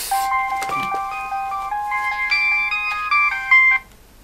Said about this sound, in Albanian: Trebës të marë telefonën.